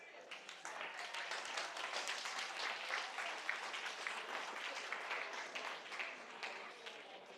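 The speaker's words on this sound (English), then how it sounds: "Please, a round of applause." Steady applause from an audience at a university design and engineering project showcase, welcoming a deputy dean; dense clapping fills the whole stretch at an even level with no talk over it.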